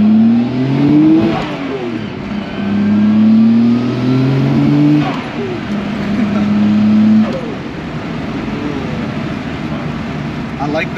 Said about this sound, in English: I like the turbo noises.